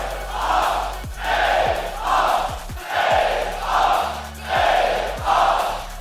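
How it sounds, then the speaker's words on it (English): A large esports arena crowd at the San Diego Convention Center chants in a loud, steady rhythm, the swelling voices pulsing again and again, with low droning tones running underneath. "Listen to this crowd."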